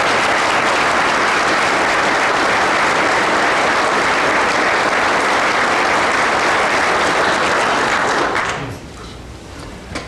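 A large audience at a community awards ceremony gives a long, loud round of applause, steady dense clapping that fades out near the end, leaving a quiet room.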